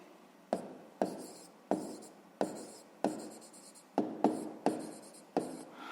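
Handwriting on paper while working a fifth-grade maths exercise: close, crisp pen strokes arrive in short scratchy bursts roughly every half second to second, with no talking.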